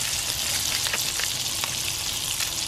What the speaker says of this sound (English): I'm going to melt that butter down